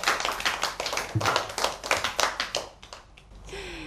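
Clapping at a French book-presentation broadcast, a few seconds of separate claps at a fairly close, moderate level before it fades out.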